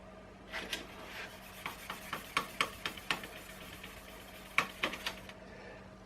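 Steel wool rubbed over a scratched aluminium crank guard on a vintage women's bicycle, giving a run of short, scratchy strokes in an uneven rhythm, close and fairly quiet.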